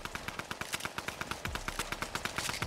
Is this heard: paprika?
no